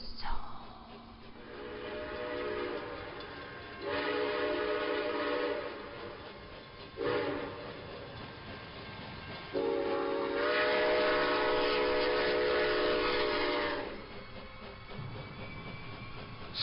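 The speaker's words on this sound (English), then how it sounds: "Step inside, take a ride upon the terror train." Rolling train wagons clatter steadily throughout, punctuated by several loud, sustained horn blasts at irregular intervals, each standing out clearly over the rumble before it fades near the end.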